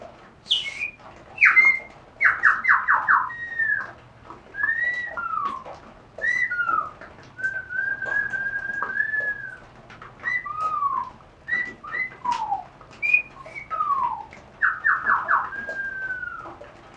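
Bird song is imitated on bird-shaped whistles outdoors near caves, with a series of clear whistled notes, trills and gliding tones in irregular phrases, fairly close and alone.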